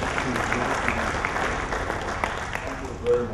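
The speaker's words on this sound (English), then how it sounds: "Please give him a round of applause." An audience at a securities market launch event claps for a planning director; the applause is moderate and sustained, mixed with some voices and room murmur.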